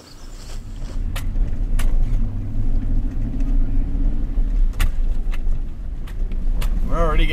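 A car drives up a road toward a fire tower, its engine a steady close rumble throughout with a few brief clicks and knocks over it.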